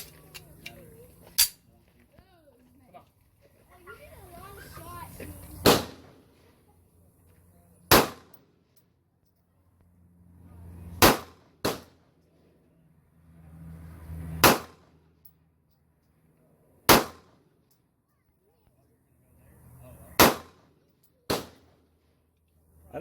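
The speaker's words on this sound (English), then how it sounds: "I'm going to shoot the SIG and the H&K and finish that off" Pistol shots from a SIG P239 and an H&K USP Compact ring out at an outdoor range, about eight sharp, loud reports spaced several seconds apart, with quiet handling noise between them.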